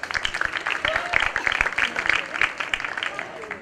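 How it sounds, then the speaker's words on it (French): Audience applause for a student prize winner at a school graduation project event in Djibouti, brisk uneven clapping with some voices mixed in, moderately loud and close. "Applaudissez-la."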